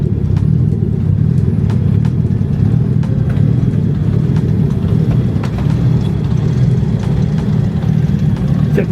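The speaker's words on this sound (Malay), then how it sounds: "Warm up sekejap, panaskan enjin." A car engine idles steadily while warming up before rolling out at an Art Of Speed custom car event in Malaysia, a continuous low rumble held close and loud for the whole stretch, with no talking.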